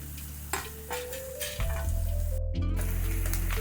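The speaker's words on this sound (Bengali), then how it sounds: "এবার এর মধ্যে ছোট ছোট দুটো কুচনো পেঁয়াজ, অল্প একটু কয়েক কোয়া রসুন কুচি, আদা কুচি আর কাঁচা লঙ্কা এটা দিয়ে আমি 2-3 মিনিট ভাজবো" Chopped onion, garlic, ginger and green chili frying in a pan: a close sizzle with stirring scrapes, followed by a steady louder hum and a brief sharp noise burst.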